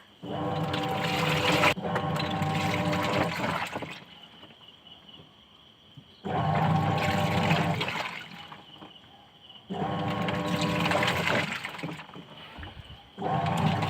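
A washing machine churns clothes in water in three strong, sloshing bursts of a few seconds each, separated by quieter humming pauses.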